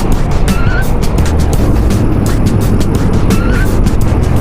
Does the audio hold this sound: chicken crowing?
no